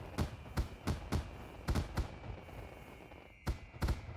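Fireworks going off in a Nintendo Switch 2 game, a run of about a dozen sharp, loud bursts in an uneven rhythm over a steady background hum.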